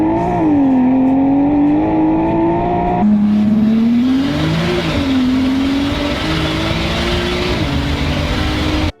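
Single-turbo Nissan GT-R with an Adro wide-body kit revving its exhaust, a loud, close engine note that swells, drops back and climbs again in repeated revs for the whole stretch, with no talking.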